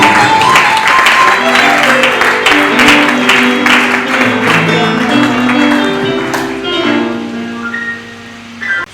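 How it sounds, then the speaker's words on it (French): A church congregation claps and cheers in praise of Jesus, loud and sustained, mixed with singing and music before easing off near the end. "nous acclamons encore Jésus"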